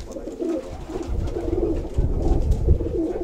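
Pigeons coo in repeated soft, low rounded phrases on Santorini, close and fairly loud against a rumbling windy background, with no voices.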